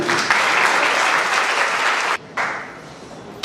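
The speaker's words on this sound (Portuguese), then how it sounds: "Palmas para o professor Evandro" An audience at an evening lecture event applauds a professor with loud, dense, continuous clapping that drops off briefly, then picks up again.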